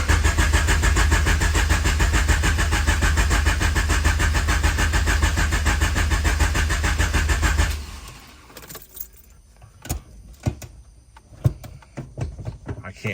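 Turbo H22 engine in a Honda CB7 cranking hard and steadily for about eight seconds without catching, a loud continuous starter whir that cuts off into quiet clicks and small knocks.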